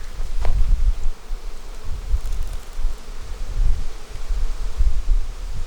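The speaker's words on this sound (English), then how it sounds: "I just had a bee pound me in the head. Come on, bees." Bees swarm around an open beehive during a fall inspection, a low, fluctuating buzz with individual insects passing close to the microphone in irregular surges.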